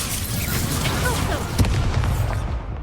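Confringo fire-blast spell from the Hogwarts Legacy video game, a dull booming burst around the middle of a busy, noisy game soundscape with steady rumble and scattered crackles.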